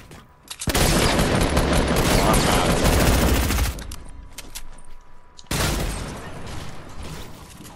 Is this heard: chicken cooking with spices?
no